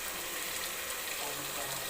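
Water pours steadily into a metal pot that held marinated chicken, a continuous close gushing rush with no break across the short stretch.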